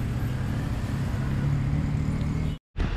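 A bus passes on a street in Bogor, its steady engine rumble and traffic noise filling the scene loudly and close, with a brief cut near the end.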